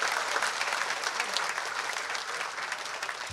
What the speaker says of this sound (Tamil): நல்லா கைத்தட்டு கொடுங்க அவருக்கு.